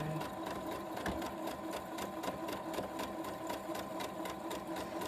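A sewing machine runs a straight stitch at a normal 2.5 length on a fabric bag, a steady rapid needle clatter that goes on without a break, close and even, with no talking.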